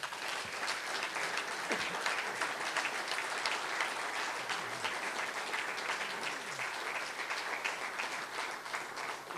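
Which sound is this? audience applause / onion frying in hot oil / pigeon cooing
audience applause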